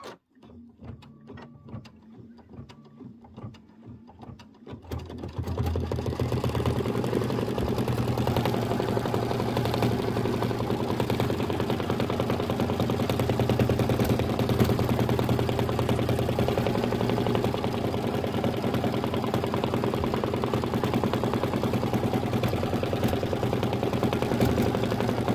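A sewing machine stitching a block for a Kimberbell Falling Into Autumn quilt. A few sparse clicks come first, then the motor starts up into a loud, steady, rapid whirring hum that runs on without a break.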